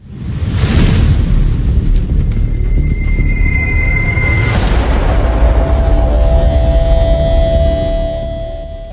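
A loud, close .308 CZ Varmint rifle shot firing 150-grain full metal jacket ammunition at an outdoor range, a sharp boom followed by a second blast and a long rolling decay.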